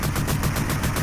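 Rapid gunfire from the 1988 arcade game Cabal, a steady stream of evenly spaced synthetic shots and bursts, loud and continuous with no talk.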